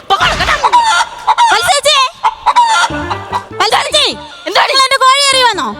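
A chicken clucks loudly and lets out drawn-out crowing calls, mixed with raised human voices nearby.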